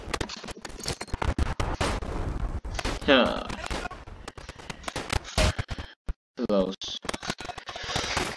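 A grenade detonates in the World War I game Tannenberg amid ongoing rifle and machine gun fire, with a heavy blast and chaotic crackling shots around it while someone shouts over the combat.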